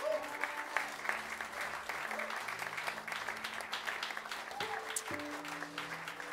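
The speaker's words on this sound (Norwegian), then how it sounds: "Bare klapp." Concert audience applauding after a jazz ensemble performance with piano, cello, violin and bass, steady dense clapping throughout with sustained musical tones lingering underneath.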